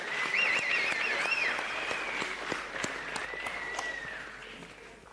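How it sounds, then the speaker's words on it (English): Sustained crowd applause at a professional boxing event in Gauteng, with steady clapping and a few sharp whistles rising above the noise throughout. "let's give them another round of applause"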